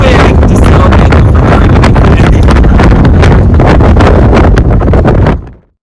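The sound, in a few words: strong wind in the desert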